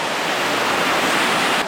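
A small waterfall in Meghalaya roars with a dense, steady broadband rush, close and loud, cutting off abruptly at the end.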